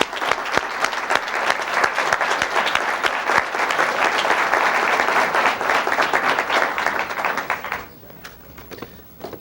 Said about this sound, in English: Let's give a great round of applause to Keith Murphy.